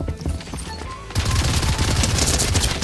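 Rapid bursts of gunfire from a video game shooting match erupt suddenly and continue loud and dense to the end.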